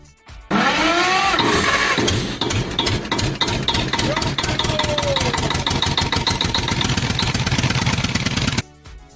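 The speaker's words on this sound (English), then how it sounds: "Tractor." A heavy tractor engine cranks and starts, then runs with a loud, steady rhythmic chugging before cutting off abruptly.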